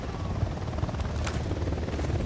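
Enemy helicopter in the tactical shooter Ghost Recon Wildlands, a continuous close rotor thrum with rapid low beating that holds steady and loud throughout.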